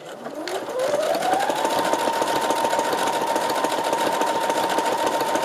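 A sewing machine stitches with a twin needle, its motor whine climbing quickly in pitch as it speeds up, then holding a steady, close, rapid mechanical hum.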